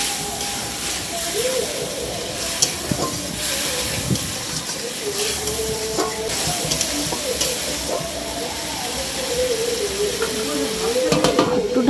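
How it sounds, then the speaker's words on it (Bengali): Fried spice masala in a pan, loosened with a splash of water and stirred for a rupchand fish curry, gives a steady, close hiss and sizzle with light scraping throughout. "জলটা দিয়ে ভালো করে নেড়ে নেব।"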